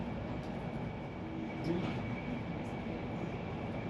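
An LNER 225 train runs along the East Coast Main Line, heard from inside the carriage as a steady low rumble and hum of wheels on track, with faint background murmurs drifting through.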